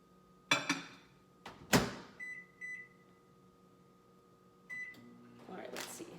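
A microwave oven set to 50% power or defrost hums under a person talking, with electronic beeps, a door clunk and rustling handling sounds around it.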